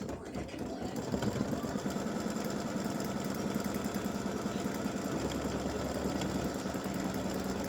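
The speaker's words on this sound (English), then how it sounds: "I'm going to start it again and let it stitch the fabric down." An embroidery machine stitching appliqué fabric down for a champagne-glass design, running as a steady, fast, even mechanical whir for the whole stretch, close by and uninterrupted.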